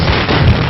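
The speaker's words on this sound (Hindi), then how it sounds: "पटाखे फोड़ो।" A dense, continuous crackle of rapid pops and bangs, loud and close, like a string of firecrackers going off without pause.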